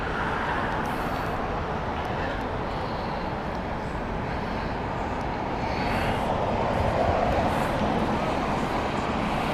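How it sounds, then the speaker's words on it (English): A Finnair Airbus A320 inbound at Heathrow, a broad steady jet roar that swells slightly toward the end, heard at a distance with faint voices in the background. "Finnair Helsinki flight Airbus A320 inbound next."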